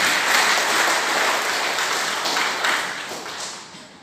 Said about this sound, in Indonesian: Tepuk tangan untuk Kementerian Agama.